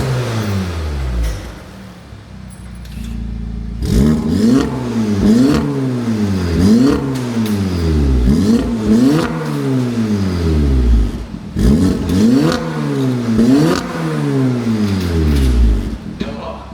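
Audi S3 8V with a custom valved exhaust, valves closed, idling then blipped through a series of sharp rising-and-falling revs, close and loud with a steady rhythm of throttle stabs.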